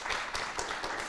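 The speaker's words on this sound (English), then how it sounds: "Let's give a round of applause" A forum audience applauds at the end of a political candidate event, producing a brief, moderately loud burst of overlapping claps with a few distinct hand strikes standing out.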